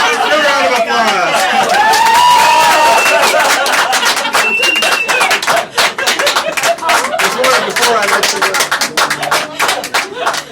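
Audience at a live mind reading show breaking into applause, dense rapid clapping mixed with chatter and excited voices, steady and close throughout.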